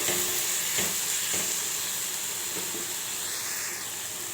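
Sambar dal being stirred and mixed with salt in a pot, village style, with a steady sizzling hiss and a few soft scraping strokes of the spoon throughout, close and fairly loud with no talking.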